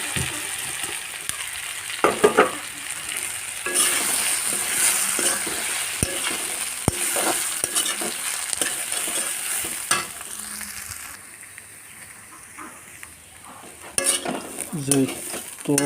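Grated coconut stirred and fried in a pan for a coconut fish curry, giving a steady close sizzle broken by scraping stir strokes and occasional clinks of a utensil against the pan.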